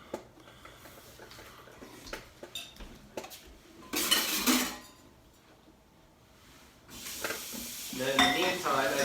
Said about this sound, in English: So we're going to put in about 1/2 cup of margarine. I'm going to let this melt down.